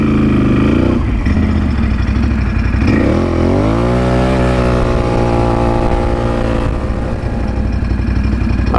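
A Can-Am Outlander XMR 850 ATV engine with lightened clutch weights and a shimmed spring revs hard and close, its pitch climbing and falling in repeated surges before settling into a high, steady drone.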